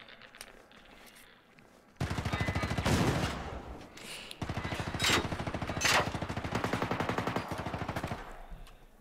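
Rapid automatic 5.56 rifle fire in the video game Generation Zero, two long bursts of dense, evenly spaced shots separated by a short pause, loud and close.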